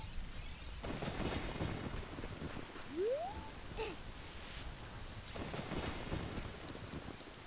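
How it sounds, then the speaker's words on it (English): Steady rain hisses throughout at a low, even level, with a brief rising tone and a couple of soft gusts in the background, in the video game The Legend of Zelda: Ocarina of Time. "Yeah, it's raining."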